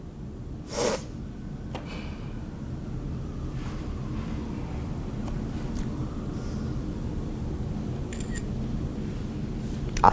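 Camera shutter firing for a selfie: one sharp click near the start, then quieter faint clicks and rustles over a low background hiss, with no talking.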